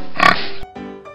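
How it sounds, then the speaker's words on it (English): Pigs oink in a children's counting piece, a bright grunting oink followed by a couple of shorter grunts, close and clear with no talking. "Hello, oinking pigs."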